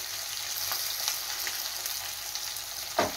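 Potatoes frying in a pan for dahi aloo, a steady close hiss of hot oil with faint spatters and one brief scrape of stirring near the end, no voices.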